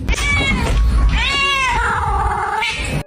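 A domestic cat meows loudly and close up, giving three drawn-out, wavering calls in quick succession with no talk over them.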